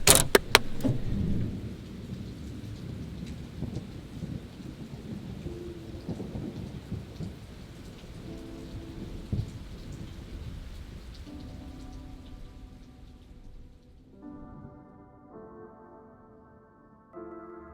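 Steady rain pours down during a thunderstorm over a lake near a cabin, thunder rumbling low through the first half, the downpour continuing until it thins into quieter patter.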